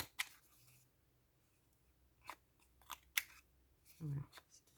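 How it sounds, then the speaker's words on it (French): Someone rounds the corners of a vintage-style paper card for a junk journal, making a few sharp, quiet snips or punch clicks spread across several seconds, with a soft murmuring voice near the end. "je vais également arrondir les angles"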